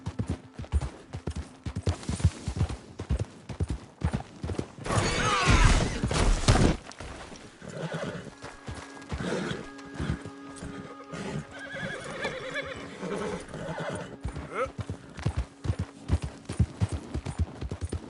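A horse in a PS4 video game gallops with steady, rapid clip-clopping hoofbeats, then lets out a loud, close whinny midway before the drumming hooves and game sounds resume.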